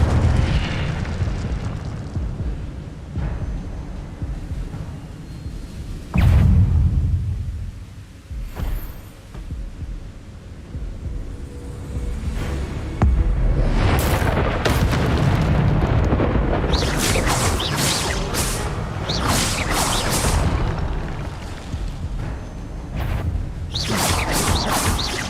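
Incendio fire spells burst repeatedly in Hogwarts Legacy combat, loud booming blasts with crackling bursts layered over dense game effects and other spell impacts throughout.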